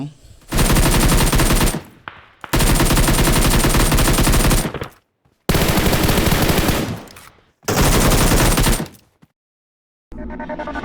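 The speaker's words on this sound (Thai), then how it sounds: "ยิงตรงแรงตรงกำแพงแล้วก็ยิงก่อนเลย" Video game gunfire rattles in long, loud, continuous automatic bursts, four sustained volleys broken by short silent gaps, close and dominating, with no talk over it.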